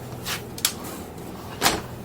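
Cabinet doors or drawers in a 2019 Windsport 34J motorhome knock shut three times at uneven intervals, close and fairly soft, with a quiet interior hum between the thuds.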